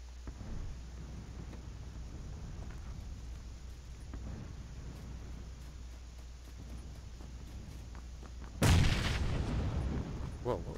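A grenade explosion in PUBG lands as a sudden loud, deep blast late on, after a stretch of quieter ambient rumble and distant shots.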